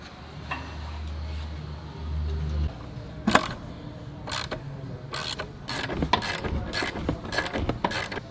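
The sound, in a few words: tightening a loose upper control arm bolt on a Jeep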